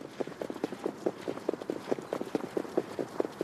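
A racehorse gallops during warm-up at a Caen trotting race meeting, with rapid, regular hoofbeats on the track. The hooves sound moderately loud against faint background noise.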